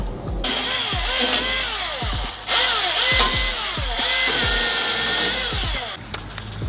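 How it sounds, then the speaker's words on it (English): A Stihl MS-193 top-handle 14-inch gas chainsaw engine sputters and revs in repeated rising bursts, loud and close, with a brief pause midway before it catches again. "this here is a Stihl MS-193 top handle 14 inch chainsaw"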